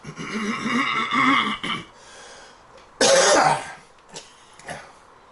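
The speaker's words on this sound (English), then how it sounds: "just coughing up something" A person coughs and clears their throat, a rough hacking burst followed by a sharper, louder cough and a few short breaths.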